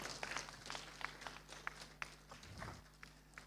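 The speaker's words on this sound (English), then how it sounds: "please, the audience, give the big applause to our two speakers." A conference audience gives scattered applause for two speakers, with a handful of distinct claps standing out over a faint room background and a brief low murmur near the end.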